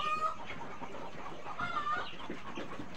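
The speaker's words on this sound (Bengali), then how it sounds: "সামনে এগুলো মিশরি লেয়ার মুরগি বাচ্চা" Egyptian Fayoumi layer chickens on a poultry farm cluck steadily, several birds overlapping in a continuous nearby chatter with a few sharper calls.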